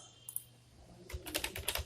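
Quick, light keystrokes on a laptop keyboard while code is entered, a soft scattered clicking that gathers into a denser burst of taps near the end, close and quiet with no voice.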